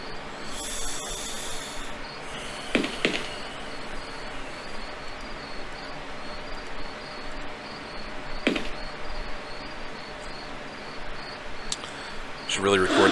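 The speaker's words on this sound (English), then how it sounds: "These crickets are getting louder again." Crickets in the video game 7 Days a Skeptic chirp as a faint, steady high trill at night, with a few sharp knocks and clicks over it.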